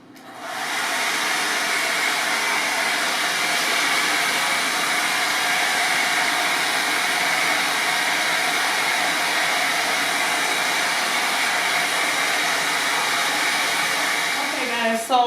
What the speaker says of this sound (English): Let me go ahead and get it blow dry right quick.